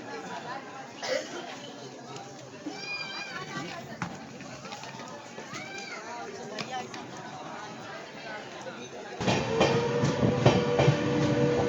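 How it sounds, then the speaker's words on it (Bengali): Howrah–Lucknow weekly superfast express train at the station about to depart, with a low rumble and clanking of the carriages under constant chatter from passengers nearby, growing louder and heavier near the end as the train starts moving. "আমাদের ট্রেনটি এখনই ছেড়ে দেবে"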